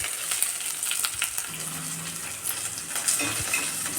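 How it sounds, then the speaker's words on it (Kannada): Crushed ingredients frying in a pan for jackfruit seed and moong dal sambar: a continuous hiss with scattered scrapes and taps of a spoon stirring, close and fairly loud. "ಚೆನ್ನಾಗಿ ಒಳಗಡೆ ಎಲ್ಲ ಫ್ರೈ ಆಗಬೇಕು, ಆವಾಗಲೇ ಅದು ಟೇಸ್ಟ್ ಚೆನ್ನಾಗಿರೋದು"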